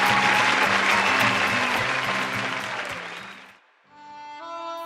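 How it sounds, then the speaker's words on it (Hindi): Audience at a Brahmakumaris school skit applauding to welcome a boy named Virat, a loud round of clapping over music that fades out, followed by a short musical phrase. "जोरदार तालियों के साथ स्वागत करें विराट का"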